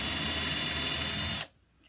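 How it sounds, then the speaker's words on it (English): A power drill whirs steadily as it bores a hole through the middle of a 3/16-inch wooden dowel rod, loud and close, then stops abruptly, leaving near silence. "Take your drill and you're going to go ahead and drill a hole right in the middle"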